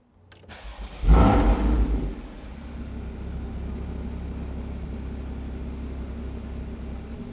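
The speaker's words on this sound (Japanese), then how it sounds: "ではエンジンを始動していきます。" A 2015 Porsche Boxster GTS (Type 981) engine cranks and fires up with a loud burst around one second, then settles into a steady, low idle rumble close by.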